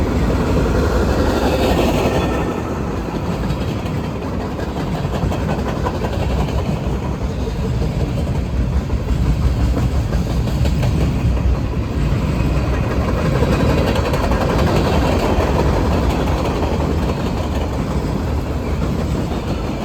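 A Norfolk Southern freight train rumbles past close by on the Charlotte District in a loud, steady roar, with the rhythmic clatter of wheels over rail joints running throughout.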